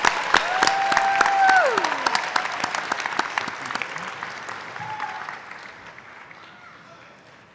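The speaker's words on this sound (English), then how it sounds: "And one last round of applause for the CCPA graduates." Crowd applauding graduates at a university fall commencement, a sustained wave of clapping with faint cheers and tonal whoops, slowly fading out.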